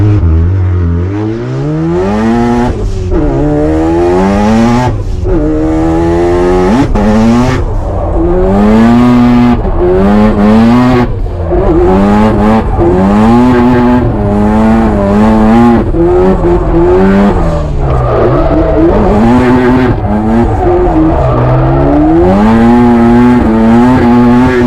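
A drift car on warm tires during practice runs at an evening drift event, its engine revving hard and constantly rising and falling in pitch as it slides, loud and close with no talk over it.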